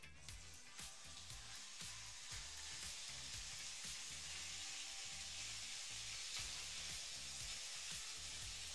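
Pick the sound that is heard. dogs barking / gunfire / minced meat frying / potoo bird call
minced meat frying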